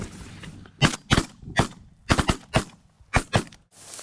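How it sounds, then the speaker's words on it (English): Shotguns fire during a snow goose hunt in a quick volley of sharp, loud blasts, singles and close pairs spread over a few seconds from several shooters nearby. "Good shot, bro. That was good shooting,"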